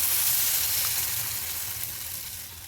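Onions and dumplings fry in a pan with a steady, close hiss and crackle of sizzling fat, fading slightly toward the end.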